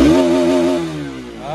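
A brand-new motorcycle engine revs steadily and loudly up close, its tone dipping briefly before climbing again, with no talking over it.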